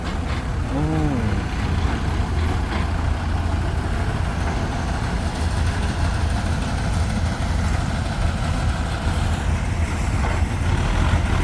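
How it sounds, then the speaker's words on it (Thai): A heavy tractor engine rumbles steadily nearby, a low continuous drone with faint clanks and brief tonal whines over it. "รถไถมาทำทางแล้ว"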